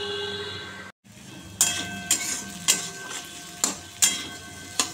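Bitter gourd fries in a pan with a steady sizzle, punctuated every half second or so by sharp metallic clinks as it is stirred or turned, close and clear with no talking.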